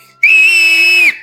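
A train whistles in a tunnel with a single loud, sustained, steady high-pitched blast lasting about a second, cutting off cleanly.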